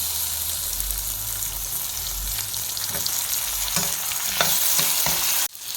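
Onion, tomato and spices sauté in a pan for Telangana mutton curry, a loud, steady close-up sizzle with occasional stirring scrapes that cuts off abruptly near the end, with no talking.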